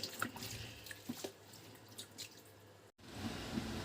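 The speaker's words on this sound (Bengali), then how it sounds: "এখন আমি শাকটা ভালোভাবে ধুয়ে নিচ্ছি" Leafy greens are rinsed in water, producing faint splashing and dripping with soft sloshes, quiet and close, with no voices.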